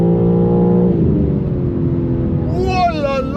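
A BMW engine revs loudly with a strong exhaust note, sustained and close, while excited speech runs over it.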